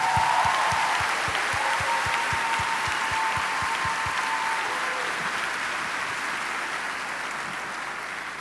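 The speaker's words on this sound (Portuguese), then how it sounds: "Vamos receber com uma salva de palmas" Church congregation applauding to welcome a pastor at a worship conference: sustained, broad clapping across a large room, with a steady low thump beating underneath for the first few seconds before the applause slowly fades.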